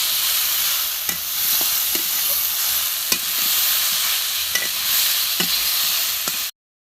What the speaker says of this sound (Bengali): একটু ভালো করে কষে নেবো।